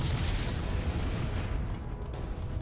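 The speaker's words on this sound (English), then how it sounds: "We'll climb up here and wait for the explosion." A loud, rolling explosion from the video game Shadow Complex, a dense low rumble that fills the whole stretch without letting up and with no voices over it.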